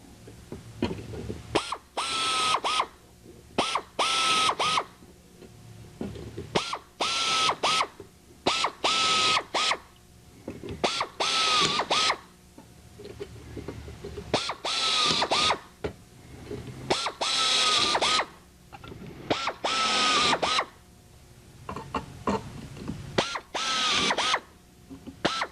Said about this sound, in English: Go ahead and put it in our drill jig with our drill guide on top of it